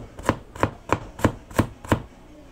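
Garlic chopped with a knife on a board for ginisang bagoong, six sharp even knocks in a steady rhythm, close and distinct, no talking.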